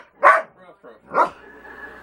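A dog gives two sharp, loud barks about a second apart, with a few softer yips between them and a faint lingering tone after.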